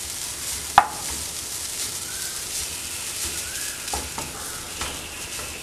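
Grated coconut roasts in a pan to brown with a faint, dry, continuous crackle, punctuated by a few sharp clicks of a spoon scraping the pan.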